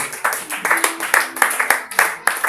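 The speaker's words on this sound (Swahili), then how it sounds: "Pigie Yesu makofi mazuri" A congregation claps in steady rhythm for Jesus during a church service, sharp, evenly spaced hand claps repeating several times a second, with voices mixed in underneath.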